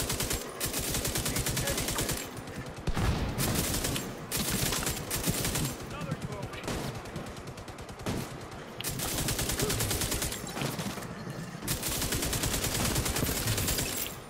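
A gun in the shooter The Division 2 rattles off loud rapid bursts of automatic fire, several long strings of shots broken by brief pauses, close and dominant.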